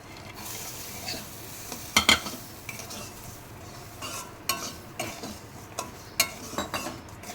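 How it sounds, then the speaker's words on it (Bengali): Semolina and sugar fry together in a pan while a utensil stirs and scrapes, giving a low steady sizzle punctuated by irregular clinks and scrapes against the metal, close by. "চিনি দেওয়ার পর হালকা নাড়তে থাকবে"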